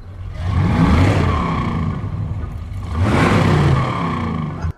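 A car engine roars in the movie Scream (2022), two loud revving surges with a brief dip between them, close and heavy, cutting off abruptly at the end.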